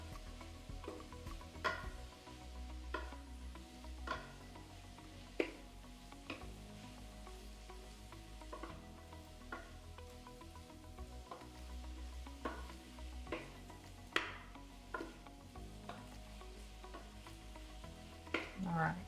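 A turkey meatloaf mixture with spinach cooks in a pan with a steady low sizzle and occasional light clicks of stirring. It stays faint and continuous, with no one speaking.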